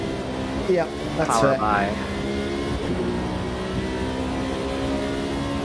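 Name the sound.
Mustang race car accelerating in video game Automobilista 2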